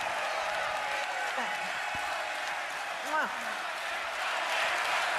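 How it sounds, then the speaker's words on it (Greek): At the Eurovision grand final, a large arena audience keeps up a constant, distant roar of applause, with a voice faintly talking over it. "Και παίρνει και το χειροκρότημα."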